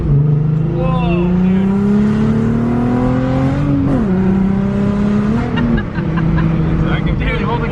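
An MK2 Golf with a 24v engine and Sigma gearbox accelerates hard on a test drive, its engine note climbing steadily through the revs and dipping briefly at quick gear shifts, loud and close throughout while people talk over it.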